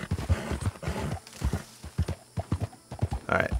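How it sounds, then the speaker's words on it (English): Horse hooves thudding in a quick uneven rhythm in Red Dead Redemption 2, close and loud, with a neigh and snorting breaths mixed in. "Wild horsey."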